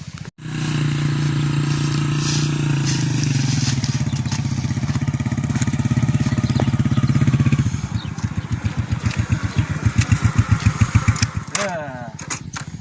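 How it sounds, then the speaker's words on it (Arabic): A motorcycle engine rumbles nearby, holding a steady drone before settling into a rapid, chugging idle pulse; voices talk faintly in the background. "الموتوسيكل الجاي بتاع مين؟"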